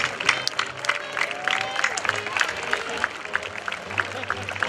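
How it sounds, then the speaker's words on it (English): Scattered applause and crowd murmur from an outdoor air show audience saluting the Doolittle Raid veterans, with a North American B-25 Mitchell on display; clapping is moderate and diffuse under steady background noise and faint voices. "I hope you will join me in a salute with your applause to the 80 men of the Doolittle raid"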